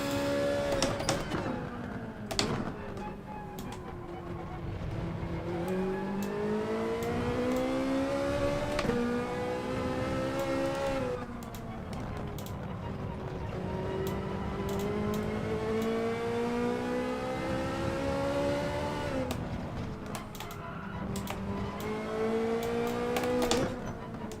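Ferrari Group 4 race car engine in Gran Turismo Sport at Circuit de Catalunya, revving loudly and continuously for the whole stretch, pitch climbing through gears in repeated long sweeps with brief drops between shifts.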